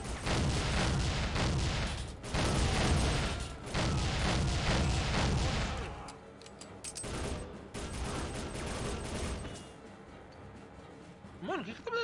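Rapid bursts of gunfire from the video game Soldier of Fortune, dense and loud for about six seconds, then sparser shots and mechanical clatter fading out.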